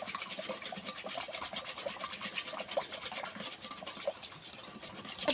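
A spoon stirs a mixture thickened with two spoons of cornflour in a bowl, making a close, continuous rhythmic scraping and rubbing with light clinks, with no voices.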